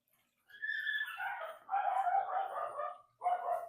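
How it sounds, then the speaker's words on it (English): A small dog, a miniature Labradoodle next door, barking and yapping in three distinct bursts at moderate distance, fairly quiet against a silent background. "Rocco's a dog, live next door. He's a cute little dog. Like a miniature Labradoodle or something like that."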